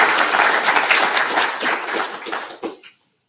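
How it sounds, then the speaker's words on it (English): A lecture-hall audience at a university inaugural lecture gives a round of applause, brisk and fairly loud, tapering into a few last claps before falling silent. "Give her a round of applause."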